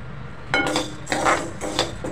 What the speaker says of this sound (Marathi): साबुदाणा छानपैकी भाजून घेऊया.